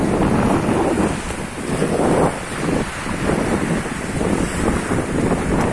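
Black Sea waves washing in and out on a Crimean beach with a rushing roar, rising and falling in surges, mixed with wind buffeting the microphone.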